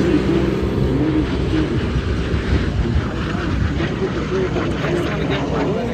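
MiG-17 jet fighter making a low pass with smoke on at the 2024 Camarillo airshow, a loud sustained jet roar rising and rolling past, with an announcer talking over it.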